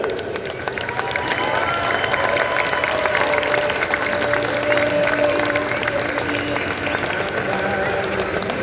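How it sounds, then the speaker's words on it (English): At a Monster X Tour monster truck show in an arena, an audience applauds steadily for several seconds for veterans, a dense wash of clapping with a few cheers mixed in. "please stand up and let us give you a round of applause and say thank you"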